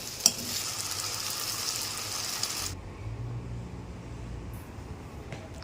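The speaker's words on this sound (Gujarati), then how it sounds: "શાક વઘારાઈ ગયું છે, લીમડો અને બસ સિમ્પલ એક મરચી નાખી છે, એનાથી વઘાર્યું છે" Vegetables sizzle in hot oil tempered with curry leaves and a green chili, a steady broadband hiss that is strong at first, then drops to a quieter, duller sizzle partway through, with a sharp clink near the start.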